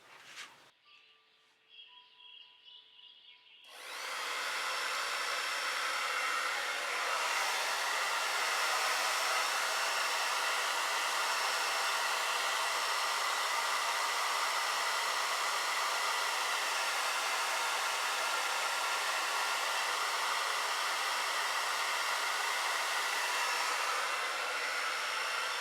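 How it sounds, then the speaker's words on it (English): After a few seconds of quiet beeps, a blow dryer whirs on to dry fluid acrylic paint and runs loudly and steadily, a constant rushing hum. "And I'm going to use my blow dryer after all."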